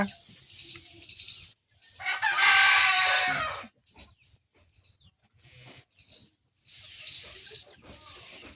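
Several chickens cluck nearby in bursts, with one loud squawking call partway through, against a quiet outdoor background.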